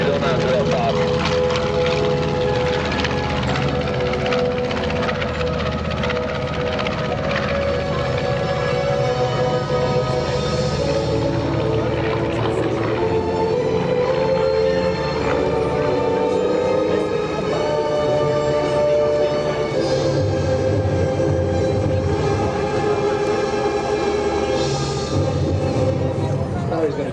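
A North American B-25 Mitchell bomber, B-25 Panchito, roars past at an air show at NAS Patuxent River, its propeller engines droning loudly and steadily throughout while an announcer talks over it.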